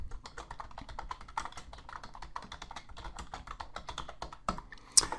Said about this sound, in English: Type in my next one, deliver outstanding products.